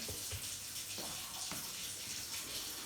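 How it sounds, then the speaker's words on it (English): Kitchen tap left running while making lazy girl sourdough, a steady splashing stream with a few brief knocks and hand movements under the flow. "I'm keeping my water to run in case I gotta wet them again."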